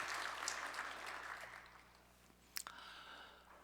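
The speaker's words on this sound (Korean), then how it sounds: "우리 찬양 받으신 주님께 영광의 박수 올립시다." A church congregation applauds during a Sunday worship service after a hymn, the clapping fading to a quieter patter with a brief louder burst near the end.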